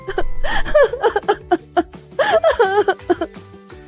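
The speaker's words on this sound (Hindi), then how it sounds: "ऐसा सोच नटखट परी जोर जोर से रोने लगी।" A mischievous fairy sobs and wails loudly in bursts of whimpering, breathy crying over a soft musical backing.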